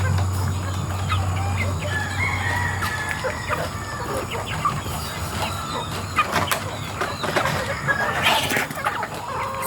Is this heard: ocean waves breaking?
no